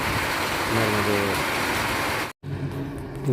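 Rain falls steadily during a Narmada pilgrimage walk, a constant hiss interrupted by a brief cut, with faint voices murmuring underneath.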